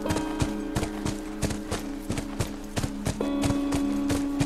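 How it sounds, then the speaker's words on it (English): A horse in The Last of Us Remastered clip-clops along at a steady walking rhythm, with crisp regular hoof strikes over soft background music. "We have a horse."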